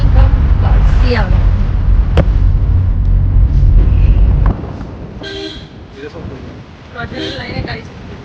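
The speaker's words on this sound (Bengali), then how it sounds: "কার্শিয়াং ঢুকতে না ঢুকতেই টয় ট্রেন দেখা গেল।" The Darjeeling toy train passes at Kurseong with short horn toots and a loud rumbling of wheels that drops off midway. People talk over it nearby.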